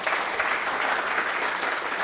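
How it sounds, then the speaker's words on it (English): A crowd claps continuously in a dense, even wash of applause for a couple of seconds. "So for Christine and Marion, just give them a round of applause"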